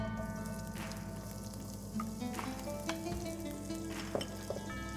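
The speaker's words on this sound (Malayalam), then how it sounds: "ഇനി ഞാൻ ഓനിയൻ ഇതിലേക്ക് ഇടാൻ പോവുകയാണ്." Onions frying in a little sunflower oil for madakku chappathi, a steady close sizzle with light stirring and occasional soft clinks of a utensil against the pan, no talking.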